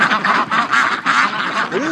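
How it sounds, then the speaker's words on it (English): A flock of large Pekin ducks quacks loudly and close by at a winter breeding pen, with dense, overlapping, repeated quacks throughout and no talk. "Like that is a massive Peking duck."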